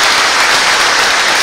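A church congregation at Sunday Mass at St Michel church in Matoury breaks into loud, dense applause, many hands clapping together in a continuous roar close by.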